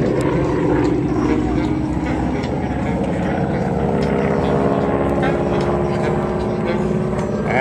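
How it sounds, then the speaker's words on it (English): Loud, steady drone of a big, heavy airplane's engines performing at the Magic Valley Air Show, a continuous roar holding throughout with no break. "for this big heavy airplane"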